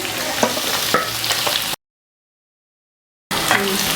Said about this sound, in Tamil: வதக்கிடலாம் கொஞ்சம் ரெண்டுத்தையும்.